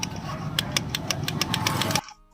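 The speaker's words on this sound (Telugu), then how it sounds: "తాళం ఆన్ చేసిన తర్వాత సెల్ఫ్ ప్రెస్ చేస్తే మీకు సెల్ఫ్ మోటర్ దగ్గర ఏదైతే మీకు టిక్ టిక్" A Honda Shine motorcycle's self-starter motor with worn carbon brushes, pressed with the key on, giving a rapid series of ticks over a low mechanical hum that cuts off suddenly.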